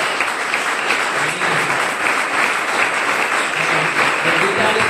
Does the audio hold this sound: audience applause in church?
yes